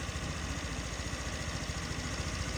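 A four-stroke injected Honda Tact AF75 scooter engine idles with a steady, quiet low putter and a faint even vibration that continues unchanged throughout, with no talking.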